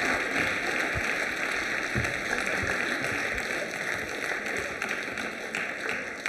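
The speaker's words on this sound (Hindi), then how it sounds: "जोरदार तरीके से तालियां बजाइए।" Applause at a Holi quiz show at Biyani Girls College, a steady crowd clapping that holds evenly throughout, backed by a constant hum.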